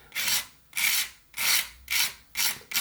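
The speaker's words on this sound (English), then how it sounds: "So I'll just take some sandpaper and work that edge" Sandpaper worked along the edge of a whittling knife blade in six even back-and-forth strokes, each a close, dry rasp separated by short pauses.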